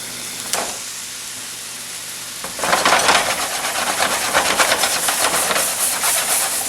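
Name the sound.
speckled trout sizzling in a hot pan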